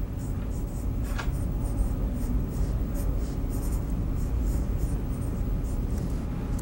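A pen scratches across paper while sketching a cartoon character's hat brim, a continuous run of short, close strokes over a low background hum.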